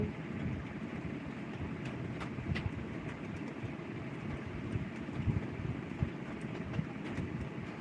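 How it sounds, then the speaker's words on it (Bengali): Rain falls outdoors as a steady, dense hiss and patter with scattered sharper drops, continuous and fairly close for the whole stretch, with no voices. "বলতে বলতে বৃষ্টি পড়ছে তো"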